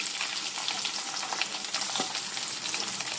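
Sliced garlic, green chilies and curry leaves fry in hot oil for a pickle, making a dense, crackling sizzle with bright spits and pops throughout a short, close stretch, with no voices.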